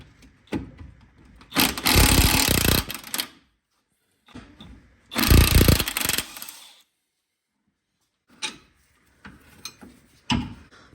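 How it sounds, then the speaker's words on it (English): A wrench and an 18mm socket work loose the sway bar link nut during front strut replacement on a Nissan Maxima, with bursts of loud ratcheting and metallic clatter separated by quiet pauses, then scattered clicks. "With a wrench going in behind and an 18mm socket, you can hold the stud steady back there and remove it."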